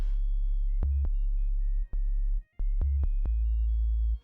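A deep, low sub-bass sine tone for an 808, sustained throughout, interrupted by a couple of short dropouts and several sharp clicks.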